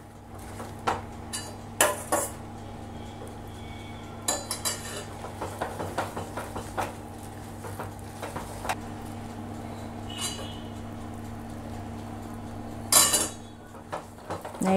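Horlicks Mysore pak stirred with ghee in a pan, a spoon scraping and knocking against the metal in irregular bursts, with a steady low hum underneath.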